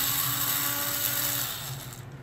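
A small power screwdriver removing short screws from the underside of an HP 15.6-inch laptop: a steady whirring drone with a faint high whine, easing off toward the end, close and alone.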